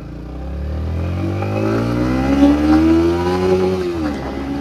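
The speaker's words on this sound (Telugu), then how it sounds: "ఫస్ట్ గేర్లో ఎంత వెళ్తుంది, సెకండ్ గేర్లో ఎంత వెళ్తుంది, థర్డ్ గేర్లో ఎంత వెళ్తుందో బైక్ చూద్దాము" A Yamaha MT15 motorcycle pulling away and accelerating up through first, second and third gears, its engine note climbing loudly and steadily with close-up rising drone, no talk.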